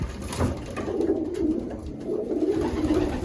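Several pigeons coo in soft, low, rolling calls that overlap steadily, close by, with no talking.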